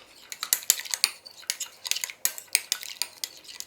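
Spoon clinks and scrapes against a bowl while chicken salad is stirred together with Greek yoghurt, lemon juice, salt and black pepper, a steady run of close, bright clatters with no talking.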